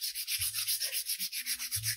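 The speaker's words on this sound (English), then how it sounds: "or I prefer to start sanding it." Hand sanding across a water transfer coaster, a dry rhythmic scraping with about a dozen even back-and-forth strokes in quick succession, close and clear with no talking.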